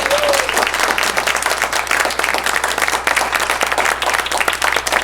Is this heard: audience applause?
yes